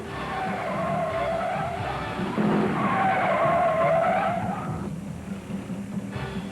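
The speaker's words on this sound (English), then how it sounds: "Bobby spun that Dodge all the way around, but he keeps it out of trouble and may head for the pits for new rubber." A Dodge race car spins all the way around during the 1971 NASCAR Motor Trend 500, its tires squealing and skidding in a loud, sustained screech that fades slightly at the end, with race cars roaring underneath.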